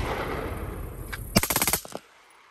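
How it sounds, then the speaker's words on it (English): A short burst of rapid full-auto rifle fire without a suppressor cracks out in quick succession, loud and sharp, following a stretch of background noise. "I really don't want to do it with the silencer because it's too quiet."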